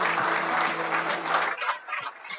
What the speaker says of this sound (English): Let us clap for her once again.